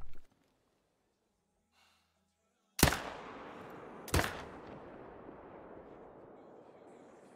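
Two loud hunting-game gunshots from theHunter: Call of the Wild crack a little over a second apart, each followed by a lingering echoing tail, after a near-silent opening.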